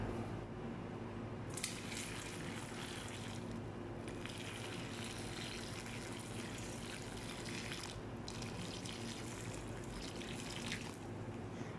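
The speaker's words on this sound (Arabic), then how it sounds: "وبحط عليه موية وبنقعه مدة نص ساعة" Water runs steadily over salted, cut eggplant pieces set to soak, a continuous close splashing and trickling with brief louder gushes, no voices.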